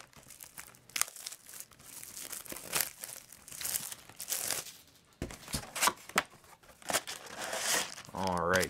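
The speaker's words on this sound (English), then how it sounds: "So we are going to crack this box open" Plastic wrap crinkles and tears as a Magic: The Gathering Return to Ravnica booster box is cracked open, in close, repeated crackling bursts, with a person talking throughout.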